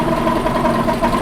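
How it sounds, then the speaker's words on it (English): Car engine idling just after being started on petrol, a dual-fuel car that also runs on gas; a steady, close, loud low hum with slight rhythmic throb, no talk. "we have just started the car on petrol"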